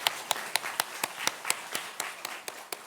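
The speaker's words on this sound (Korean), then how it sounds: "우리 박수로 주님께 영광 돌리겠습니다." A church congregation at an Easter Sunday morning service claps to give glory to God, about a dozen sharp, unison claps in a quick, steady rhythm, heard from a moderate distance with no talking.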